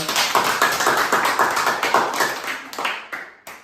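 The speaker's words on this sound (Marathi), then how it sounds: "तर अक्षरासाठी टाळ्या वाजवा एकदा" A group of students clap together, giving a run of quick sharp claps at close range that thin out and stop near the end, with no speech.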